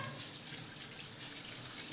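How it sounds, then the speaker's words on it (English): Cold water runs steadily from a tap through a sieve of rice being rinsed, a soft continuous hiss and splash, faint and close with no talk. "we're just going to give it a quick rinse through with the sieve and some cold water"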